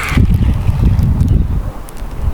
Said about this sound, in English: it is a bit windy today